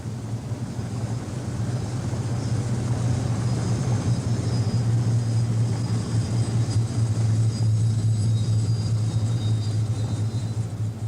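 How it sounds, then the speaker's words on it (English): A World War II Avro Lancaster bomber taxis back up the runway after touchdown, its piston engines giving a steady, loud droning rumble with a constant low hum that holds evenly throughout, with no voices. "After touchdown, the Lancaster backtracks up the runway."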